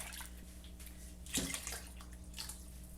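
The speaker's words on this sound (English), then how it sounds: "Put a quart of water in there." A quart of water poured into a canning pot for home-canned chili, a brief gushing splash midway over a low steady background hum.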